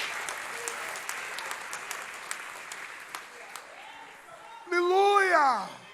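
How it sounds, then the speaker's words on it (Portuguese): A church congregation at an evening service claps in scattered, fairly soft bursts, then a short, louder gliding tone rises over the room near the end. "Quem recebe esta palavra, aplauda o nome do Senhor Jesus esta noite"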